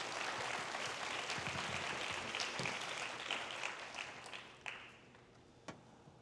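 A church youth congregation at an evening winter-retreat service claps together in a full, dense burst that gradually dies away into a few scattered, isolated claps near the end.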